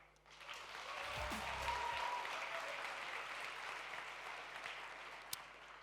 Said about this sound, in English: Applaud for yourself.